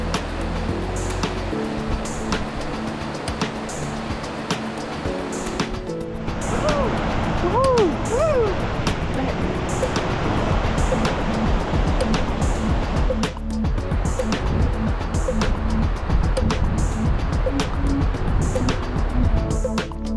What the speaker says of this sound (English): we come across a river crossing